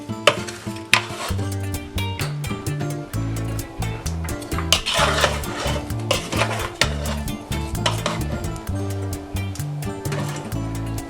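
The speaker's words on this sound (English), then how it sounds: "And then you mix together." Assorted meat seasoned with pepper and spices is stirred in a cooking pot, giving repeated scraping clinks and a light sizzle beneath steady background music.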